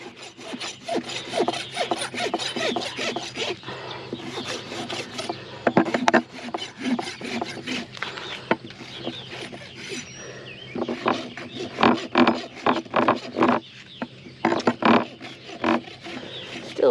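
A farrier's rasp files a strong bevel onto a horse's hoof during a maintenance trim, giving steady, close, gritty back-and-forth strokes in long rhythmic runs with brief pauses between them.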